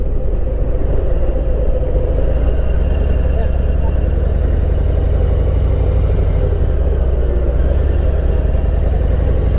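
A Harley-Davidson Heritage Classic motorcycle with the 114 cubic inch V-twin rolls along, its deep loud rumble droning steadily and close throughout with no breaks.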